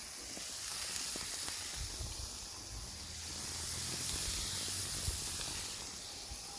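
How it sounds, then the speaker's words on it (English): Cooking spray hisses in a few short bursts onto kofta kebab, a soft airy spray sound with faint low sizzling beneath, close and alone without talk. "spray it with PEM spray like that"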